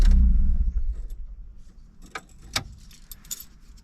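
A car engine is switched off, its low rumble fading within the first second, followed by a quiet pause and then several light jangles of keys close by.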